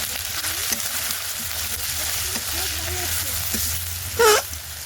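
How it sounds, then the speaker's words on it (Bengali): Spices with salt, turmeric and chili sauté in a pan with a steady sizzle, accompanied by faint stirring scrapes and a short louder hiss near the end. "সব রকম মশলা দিয়ে দিয়েছি, দিয়ে এবার এইটাকে আরো ভালো করে একটু কষিয়ে নেব।"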